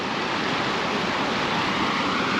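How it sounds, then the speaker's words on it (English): Water rushing out of a farm tile drainage line after heavy rain and pouring down over riprap, a loud, steady, close roar that never lets up. "That is a lot of water coming down through there."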